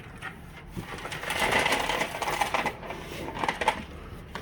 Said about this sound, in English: I hear like a whole bunch of screws.